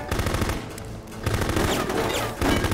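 Rapid automatic gunfire in the war video game Full Spectrum Warrior, loud continuous bursts with a brief lull before crackling resumes.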